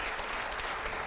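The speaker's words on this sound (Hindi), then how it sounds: "चलिए अब तालियों की आवाज थोड़ी कम आ रही है" Audience applause in a studio, a steady wash of clapping hands, moderately loud and continuous through a short stretch with no voices on top.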